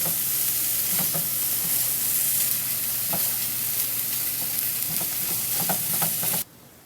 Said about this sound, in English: Let me just sizzle this up and get it all nice and hot.